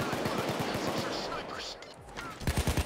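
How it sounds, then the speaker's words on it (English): Rapid gunfire from the Payday 2 video game rattles in repeated bursts, loud and close, with a dense run of shots at the start, a brief lull, then another quick volley at the end. "We're getting the shit shot out of us."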